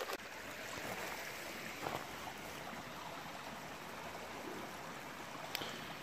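A gold-bearing creek flows steadily nearby, a soft continuous rush of moving water with a few faint clicks, heard alone without talk.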